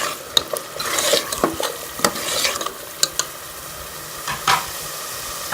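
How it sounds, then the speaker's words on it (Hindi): Potatoes being fried in spiced masala for aloo mongray sabzi, a close, loud sizzle broken by repeated scraping and knocking stirs of a spoon against the pan, without any speech. "3 से 4 मिनट अच्छी तरह से आलू को मसाले में भून लेंगे।"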